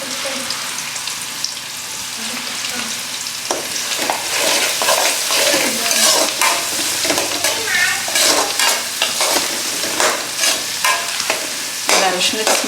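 Puri tempering with turmeric frying and being stirred in a pan, a steady loud sizzle broken by repeated scraping stirs, close up and without talk.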